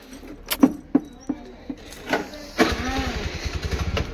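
A motorcycle starts up after a few clicks and key-like rattles, then settles into a steady, close engine idle with a throbbing low rumble, heard outdoors on a sunny day.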